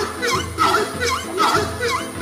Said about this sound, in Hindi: हॉर्नेड स्क्रैमर। इसकी आवाज सुनकर आपको ऐसा लगेगा कि जैसे कोई गधा जोर जोर से चिल्ला रहा हो।